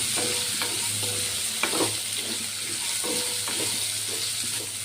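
Onion pieces frying in oil, a steady close sizzle that holds through the whole stretch, with occasional soft stirring scrapes and taps in the pan and no voices.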